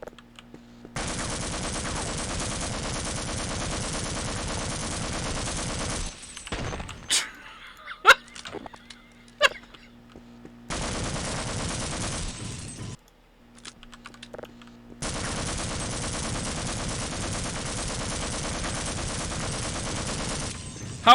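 Assault rifle gunfire in Half-Life: Opposing Force, long sustained automatic bursts of several seconds each, separated by short gaps filled with scattered impacts and thuds, loud and close.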